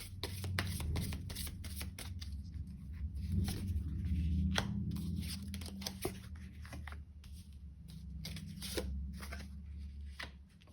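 Tarot cards riffled and shuffled by hand in a steady run of quick, crisp flutters close by, over a low background hum.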